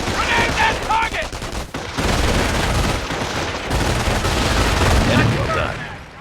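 Machine gun fire in the Company of Heroes war game, with loud, dense bursts of automatic gunfire rattling continuously throughout, briefly dipping before resuming, while shouted voices are heard in the mix.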